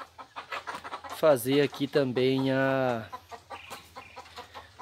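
Chickens in a backyard coop at the back of a lot cluck loudly in a burst of squawking calls up close, with someone talking before and after.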